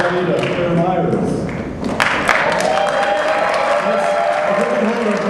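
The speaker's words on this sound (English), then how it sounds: "And then we can give them one more big round of applause." A large audience at a high school theater awards ceremony breaks into loud, sustained applause with scattered cheers, dense clapping filling the whole stretch.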